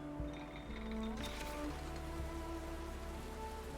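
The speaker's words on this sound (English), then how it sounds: "Oh, look, it's raining." Rain in the video game Hundred Days, a soft patter of drops on a surface under sustained musical tones and a few faint clicks, fairly quiet and continuous throughout with no voices.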